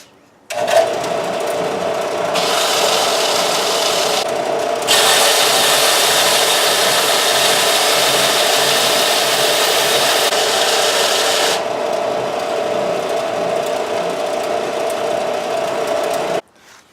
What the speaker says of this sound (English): So I'll just do a little more sanding on these